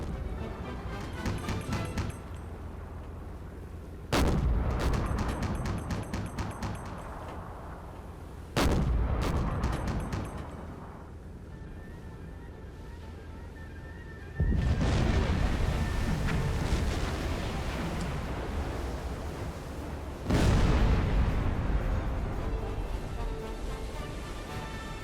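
Torpedo strikes on a ship in the submarine game Silent Hunter 4: several heavy booming explosions with rumbling decay, recurring every few seconds, loud and close.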